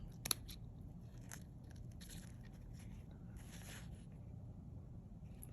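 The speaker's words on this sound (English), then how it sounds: "I'm cutting right up to, but not into the stitching." Scissors snip fabric right up to a seam in several soft, scattered cuts and scrapes, close but faint over a low background hum.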